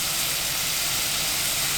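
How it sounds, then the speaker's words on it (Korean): Cod pieces with perilla oil and mirin sizzle in a pot over high heat, giving a loud, steady, close hiss throughout. "지글지글 소리가 나기 시작하면 그때부터 1분 정도 굽고"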